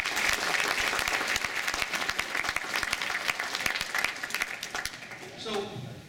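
Dense audience applause from a crowded lecture hall at a ventriloquist convention, steady and loud for about five seconds before tapering off near the end.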